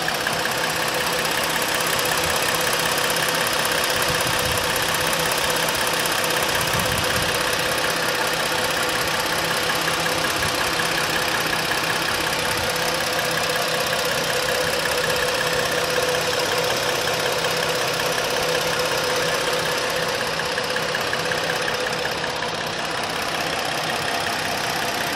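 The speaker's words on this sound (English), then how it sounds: "I'm gonna let you hear the engine right now that the fans are not on." A 2016 Ford Explorer Police Interceptor with the 3.7 liter engine and all-wheel drive idles with its cooling fans off, giving a steady, even, close-up hum that runs unbroken throughout.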